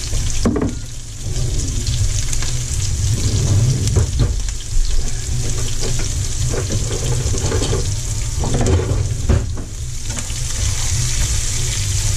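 Peppers sizzle in a hot pan for stuffed steak, a steady loud hiss with crackling bursts running the whole time, heard alone with no voices.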